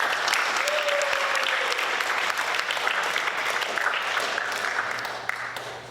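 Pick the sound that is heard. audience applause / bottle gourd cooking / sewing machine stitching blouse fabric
audience applause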